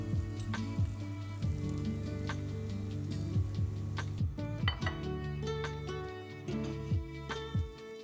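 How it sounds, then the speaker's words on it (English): Apple wedges sizzle and fry in butter in a pan, a steady sizzle broken by sharp clinks and taps of a utensil against the pan, with faint music underneath. "we're going to fry the apple wedges in the pan until they're nicely golden"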